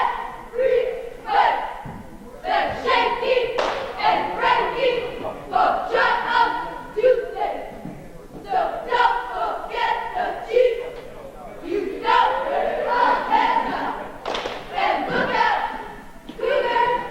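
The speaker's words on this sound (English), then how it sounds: "Do you have any idea who's cheering for Northeastern, John?" At a high school junior varsity boys' basketball game, the crowd yells and cheers in rhythmic, chant-like waves, loud and close, with shouted voices rising and falling throughout.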